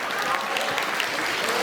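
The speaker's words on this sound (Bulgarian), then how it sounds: "Силни аплодисменти." Strong applause fills a room at a school competition event, with many hands clapping densely and steadily through the short moment.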